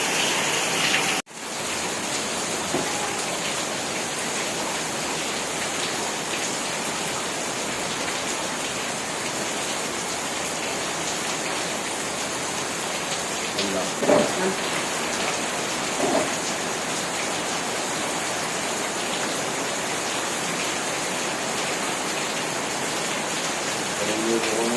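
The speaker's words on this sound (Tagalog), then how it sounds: "Naabot naman tayo ng ulan" Steady rain falls outdoors during a hunting trip, a continuous dense hiss of drops on surfaces lasting throughout, with faint voices occasionally underneath.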